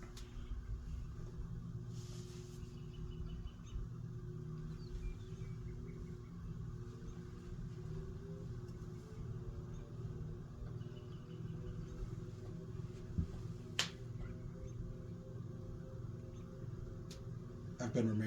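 A Hunter/Robbins & Myers Type R52 antique ceiling fan with a three-speed coil starts up on low, giving a steady low hum and whine that persists throughout, with someone talking over it.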